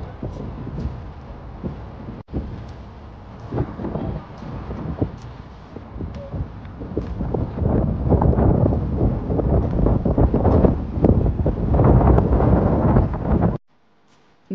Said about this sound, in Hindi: यहाँ पे आप विंड का आवाज़ सुन सकते हैं, कितना विंडी था उस दिन।